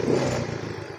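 Yamaha Mio M3 scooter with an ECU fault, engine blipped briefly close by: a short rise in revs that settles back to an uneven idle within about a second, with light mechanical clatter underneath.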